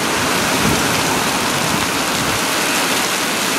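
Heavy rain pours down steadily in Tucson, a loud, dense, continuous hiss of drops hitting surfaces with no break and no voices.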